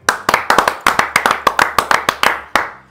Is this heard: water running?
no